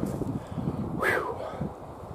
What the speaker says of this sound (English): you might be getting the wind on there, man, but it is a warm breeze